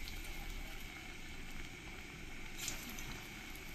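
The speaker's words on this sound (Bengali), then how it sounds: "কেটে কেটে এই গরম তেলের মধ্যে আমি দিয়ে দেব।" Onion pakora batter dropped into very hot oil, a faint, steady sizzle and bubbling hiss that continues evenly without pause, with no talking over it.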